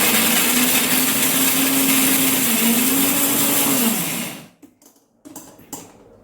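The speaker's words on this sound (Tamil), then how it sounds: "இப்போ மிக்சியில் அரைச்சிட வேண்டியதான்" An electric mixer grinder whirs loudly and steadily while grinding coconut and garlic, then cuts off, leaving a few brief clicks and rattles.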